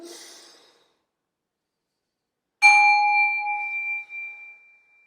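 A single bell in a chapel service is struck once and rings out with a clear, sustained tone that slowly fades, after a soft exhaled breath and a brief silence.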